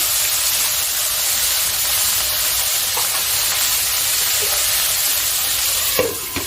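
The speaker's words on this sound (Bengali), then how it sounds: "এটাকে আমি ভালো করে ভাজা করে নিচ্ছি" Potato and pointed gourd pieces frying in a pan for a fish curry, a steady loud sizzle and hiss throughout with a faint clink near the end, no voices.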